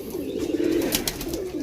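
Pigeons coo nearby in a soft, continuous low warble, with a few faint higher chirps and flutters mixed in and no voices.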